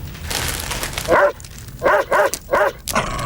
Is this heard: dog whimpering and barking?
yes